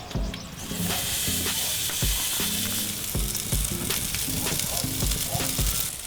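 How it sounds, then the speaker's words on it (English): A porterhouse steak sizzles loudly and steadily on an iron grill grate over a fire, a dense close hiss throughout with faint music underneath. "we'll place the porterhouse steak in the middle of the grate."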